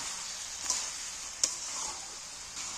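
Fried potatoes and jackfruit are stirred together in a pan under a soft, steady sizzle, with two sharp clicks of a spoon against the pan standing out near the middle.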